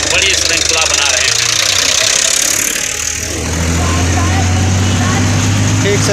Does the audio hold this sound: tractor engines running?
yes